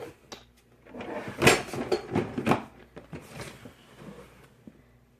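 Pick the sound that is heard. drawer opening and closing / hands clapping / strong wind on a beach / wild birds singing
drawer opening and closing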